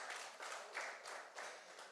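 Faint applause during a church wedding, quiet pulsing bursts of clapping from a distant congregation over about two seconds.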